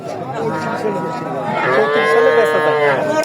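A cow moos loudly and close by at the Chandaikona livestock market in Sirajganj, in one long, drawn-out call that swells toward the end.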